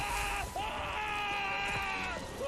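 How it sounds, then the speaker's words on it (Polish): A fighter in Mortal Kombat 1 screams in great pain: a long, loud, strained wail held for about two seconds, cut off briefly, then rising again, with game noise underneath. "Krzyk z wielkiego bólu."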